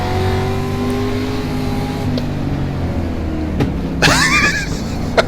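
Late model race cars in the iRacing sim roar together in a pack under green, a steady layered engine drone with one car's revs sweeping up sharply near the end.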